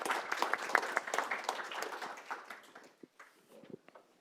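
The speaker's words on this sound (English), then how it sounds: "let's give one more final applause to all of our panelists." Seminar audience applauds the panelists, a moderate round of clapping in a room that thins out and fades over a few seconds, with scattered last claps at the end.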